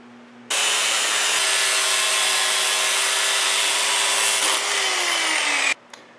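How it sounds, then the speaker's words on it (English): An angle grinder cuts through the metal handle of an Anyang power hammer, a loud, continuous high whine with a steady pitch that drops slightly near the end before the tool shuts off abruptly. "I'm going to take the angle grinder and shorten it about 1 inch"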